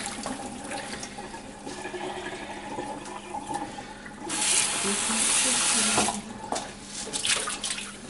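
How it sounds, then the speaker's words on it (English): Blackberry jam mixture for a low-sugar, no-pectin jam is poured into a strainer, making a steady wet splashing and running-liquid rush that swells loudly midway before easing off, with a faint background hum. "Go ahead and pour it in the strainer"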